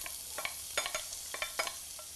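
Cumin seeds and finely chopped onions for saag paneer sizzle softly in a pan while a utensil stirs them, scraping in irregular bursts over a quiet, steady frying hiss.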